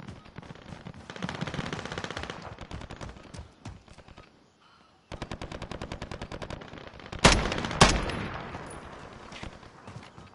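Rapid automatic gunfire in a multiplayer shooter game, long bursts of close, sharp shots with a short lull before more firing and a couple of louder blasts.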